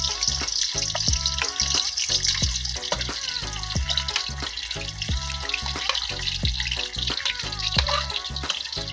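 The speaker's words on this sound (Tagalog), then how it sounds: "Sunod naman natin ilagay yung mga hotdog mga kagulong." Hotdogs frying in a pan of oil, a busy, steady crackle and sizzle with rapid popping bursts throughout, close and loud, no voices.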